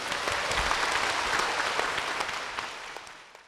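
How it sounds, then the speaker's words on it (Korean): A church congregation claps steadily, a dense wash of applause that holds evenly and then slowly tapers off toward the end. "박수로 모시겠습니다."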